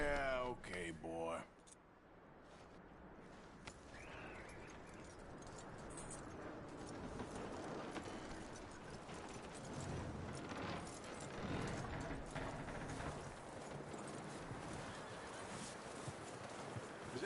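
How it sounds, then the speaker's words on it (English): Horse hooves clip-clopping in Red Dead Redemption 2, a steady walking rhythm of hoofbeats with game ambience, following a brief burst of talk at the start. "That looks like a decent horse."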